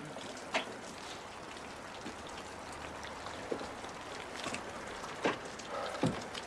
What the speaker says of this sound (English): Rain's wet, isn't it?